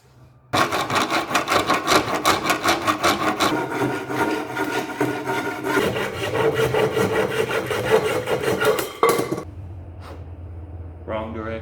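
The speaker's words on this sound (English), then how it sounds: "This little miter box from Home Depot" A hand saw cuts wood in a small $10 Home Depot miter box during set building, with fast, steady back-and-forth strokes, loud and close, for about nine seconds before stopping; a low hum continues afterward.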